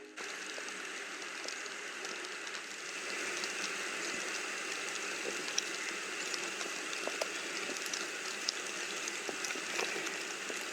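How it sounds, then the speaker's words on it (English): Steady broadband patter of rain falling on leaves and ground outdoors in the Pacific Northwest high mountains, with occasional brighter drips standing out; continuous and fairly soft throughout. "Listen, it's raining."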